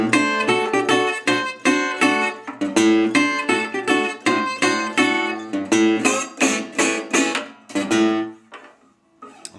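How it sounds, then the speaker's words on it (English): Blues guitar plays a four-chord position: close, rhythmic strummed chords in a steady shuffle, unaccompanied, thinning out and stopping near the end. "again, that 4-chord position from the beginning sounds like this."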